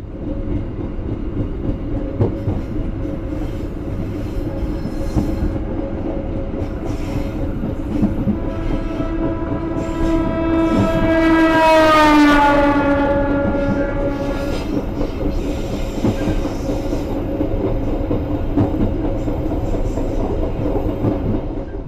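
Ranggajati passenger train rolling on rails near Kroya, Indonesia, heard from a business-class carriage: loud continuous rumble and clatter of wheels, with a rising and falling train horn swelling in the middle before the steady running noise resumes.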